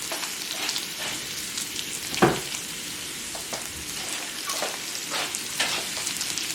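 A burger patty cooking on a grill beside bacon keeps up a continuous close sizzle with soft crackles. One sharper scrape or tap sounds partway through, and nobody talks.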